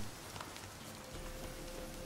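Steady, soft rain patters across surfaces during a storm in The Witcher 3, a continuous low wash with no voices over it.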